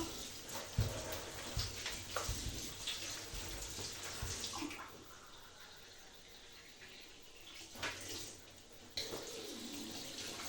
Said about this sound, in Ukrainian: включила гарячу воду і чекаю холодну